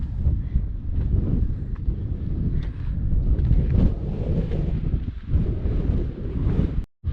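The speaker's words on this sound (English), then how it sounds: "It's pretty much always going to be windy up here." Gusty wind high on Mount Washington's Huntington Ravine hiking route rumbles and buffets steadily against the microphone, loud and continuous, cutting out abruptly near the end.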